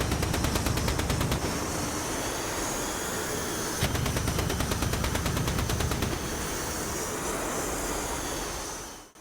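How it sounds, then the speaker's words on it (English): The Mirage F1's cannon in the DCS flight simulator fires in long rapid bursts, a dense chunky rattle over a roaring jet engine, with a brief pause between volleys before fading out. "The gun sounds, though, are really nice in third person"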